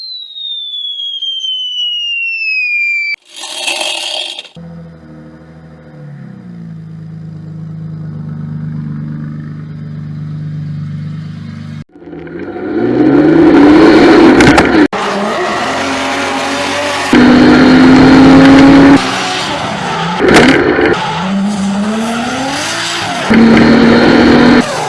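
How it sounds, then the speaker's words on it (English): A car with a newly fitted fabricated exhaust tailpipe starts and revs loudly, with a steady idle first and then repeated rising and falling revs, close and without talk. "Sound test time. Everybody's favourite part of fitting a new exhaust,"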